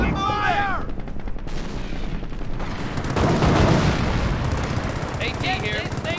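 Gunfire in the World War II strategy game Company of Heroes, dense bursts and distant rattling shots under battle noise, with shouted unit voice lines at the start and end.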